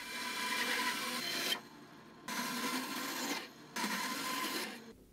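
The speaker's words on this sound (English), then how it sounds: "Now it's off to the bandsaw and we'll cut it out." A bandsaw cuts a piece of wood burl in three sustained passes of harsh, bright rasping, each a second or more long, broken by brief quieter gaps where the blade idles, close up and with no speech.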